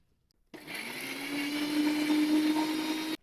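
A mixer grinder roughly grinding garlic and spices for a stuffed brinjal dish, starting abruptly in a loud steady whine for about two and a half seconds before cutting off.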